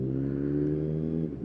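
A Suzuki GSX-S 750 motorcycle with a Yoshimura slip-on exhaust, running standard fuel, revs hard on a dyno for a baseline run, a loud, steady engine roar that holds throughout.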